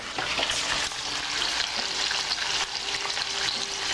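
Bacon fries in a pan with a steady, close hiss and crackle. Small pops are scattered across it and no one speaks.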